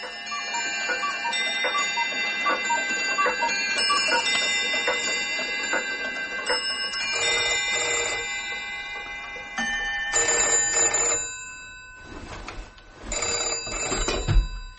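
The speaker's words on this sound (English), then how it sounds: "to be greeted by a cacophony of clock noise, bells, chimes, cuckoos, and buzzers." A cacophony of clocks, bells, chimes, cuckoos and buzzers going off together, with loud sustained ringing and tonal chiming that thins out and returns in bursts, and no talking.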